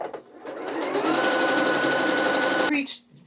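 Sewing machine running a small zigzag stitch through thick fabric for a ruched skirt, a steady close whirring hum for about two and a half seconds, then stopping with a clunk.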